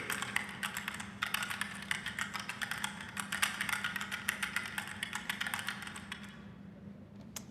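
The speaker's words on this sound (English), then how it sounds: "Meier can type about 60 words a minute with one hand" Billy Meier typing rapidly with one hand on a keyboard: a dense, continuous clatter of close key strikes that stops abruptly near the end, leaving faint background noise.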